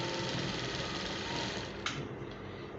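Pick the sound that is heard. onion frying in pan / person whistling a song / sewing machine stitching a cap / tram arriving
sewing machine stitching a cap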